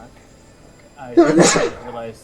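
A single sneeze bursts out at a tabletop role-playing session, a short sharp explosive breath following quiet speech, close to the microphone.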